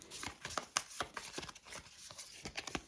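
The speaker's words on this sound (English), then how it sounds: "Okay, shuffling up again." Cards for the Shadows of Brimstone board game are shuffled by hand on a table, a quick string of soft riffling snaps and taps in an uneven rhythm, faint and close, with no talk.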